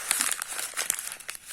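Paper crumpled and mashed in the hands around a fatty food item for a grease-spot test, a close crinkling and crackling that rustles steadily throughout with no talk.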